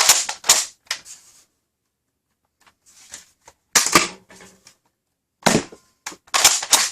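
A Nerf N-Series PinPoint dart blaster fires in several sharp, snappy bursts of clicks and pops, separated by near-silent pauses, close and fairly loud.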